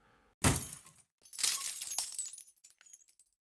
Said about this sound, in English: This time the glass frame shattered into pieces.